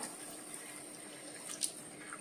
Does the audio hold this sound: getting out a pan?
no